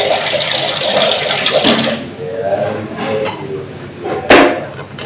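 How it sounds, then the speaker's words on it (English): Tap water runs and pours into a cooking pot being filled for noodles, a steady close splashing rush that eases off midway, with clatter from the pot and kitchen noises around it. "Okay, we just add some water."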